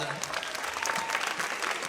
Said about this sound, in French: On peut applaudir beaucoup, on peut applaudir très très fort Fred,